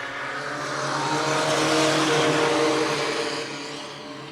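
A pack of race cars accelerates on a racetrack at the green-flag start, their engines swelling into a loud, sustained roar that peaks mid-way and then eases slightly as the field pulls away.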